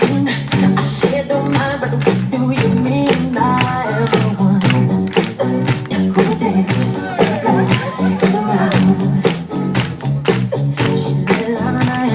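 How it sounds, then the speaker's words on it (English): A resort crowd claps in rhythm along with a DJ at a hotel party in Sharm El Sheikh, sharp regular claps running steadily over loud dance music. "Everybody clap your hands."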